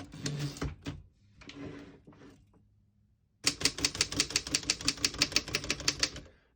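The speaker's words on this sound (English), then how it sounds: "all the keys type nice and none of them skip or stick" A 1915 Royal 10 antique desktop typewriter clacks out a rapid, even run of crisp keystrokes close up, after a few scattered taps and quiet handling sounds.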